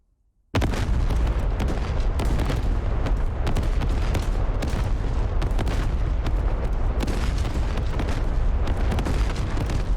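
Video-game artillery fires blindly over a hill, a dense, continuous roll of booms and blasts that starts abruptly and stays loud throughout, with no talk.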